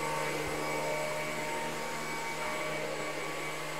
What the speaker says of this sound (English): Love that vacuum cleaner.